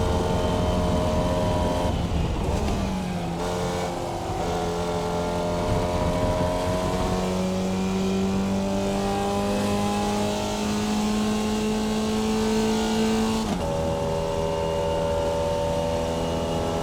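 A Formula Vee race car engine in the iRacing sim drones steadily, climbing in pitch through each gear. There are a couple of quick shift drops early on and another near the end, and no voices.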